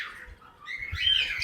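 Birds chirp and squawk at close range on an aviary farm, a short burst of bright tweets rising toward the end of the moment.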